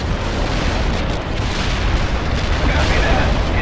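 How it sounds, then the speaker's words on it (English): A heavy artillery barrage from the war strategy game World in Conflict pounds continuously, a dense, loud wall of rumbling explosions with no clear gaps between impacts. "Heavy artillery barrage inbound."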